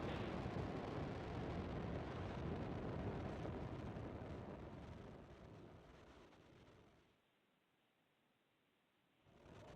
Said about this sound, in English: And liftoff of the Falcon 9.